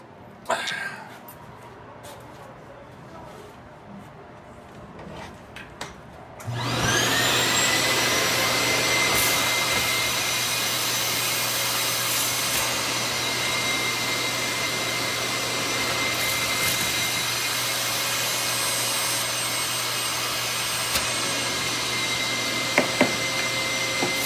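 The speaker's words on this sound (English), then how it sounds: "vacuuming." A vacuum cleaner switches on after a few quiet seconds, then drones steadily and loudly up close while cleaning the cockpit of a Sega Astron Belt arcade machine.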